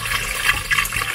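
Chicken back pieces are rinsed in a basin of water while a Jamaican dish is prepared, bringing short, close sloshing and splashing bursts that rise and fall over about a second.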